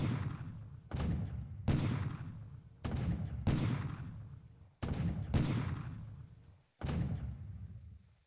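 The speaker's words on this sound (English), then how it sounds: "Oh, we do get a bombardment in." Heavy naval bombardment in the World War II Pacific strategy game War in the Pacific: Admiral Edition, with seven loud, booming blasts at irregular intervals, each a sharp crack rolling into a long decaying rumble, with no voices.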